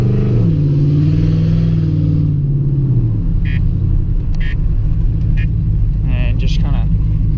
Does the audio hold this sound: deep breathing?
no